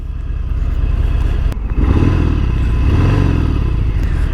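A Harley-Davidson Fat Bob motorcycle engine rumbles close and loud, a steady low idle with a brief clack partway through and a slight swell in revs afterward.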